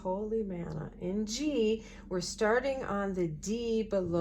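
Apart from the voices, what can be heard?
No everyday noise stands out behind the speech.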